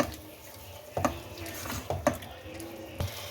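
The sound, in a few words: stirring yogurt into mutton liver on high flame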